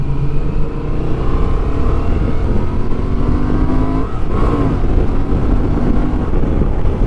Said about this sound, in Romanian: Accelerează extraordinar de bine motocicleta.